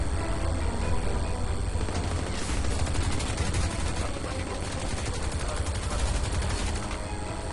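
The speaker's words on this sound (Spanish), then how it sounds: "me disparan del helicóptero y de acá también" Dense, sustained automatic gunfire from a helicopter and ground attackers rattles on without pause in the video game Crysis 2, loud and layered over a constant battle din.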